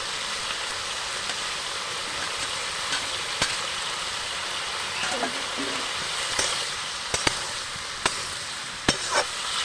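Ground spice paste with green chili frying in a pan for a young jackfruit curry, a continuous loud hiss broken by occasional sharp clicks of a stirring spoon.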